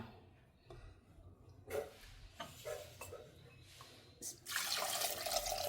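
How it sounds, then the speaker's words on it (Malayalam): A few faint clinks and splashes, then water is poured steadily into a pot used for roasting coriander for mutton pepper gravy, a rushing gush at the end. "നമുക്ക് വെള്ളം ഒഴിച്ച് കൊടുക്കാം"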